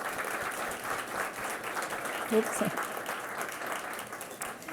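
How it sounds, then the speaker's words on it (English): Audience applause honoring philanthropic leaders of immigrant and marginalized community causes at a giving summit, a steady sustained clapping from a crowd with a brief spoken interjection over it. "So I want to give them a round of applause."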